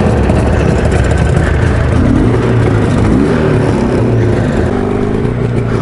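Jawa 350 TS two-stroke motorcycle engine running loud and close, a steady dense drone with slight shifts in pitch as the throttle varies.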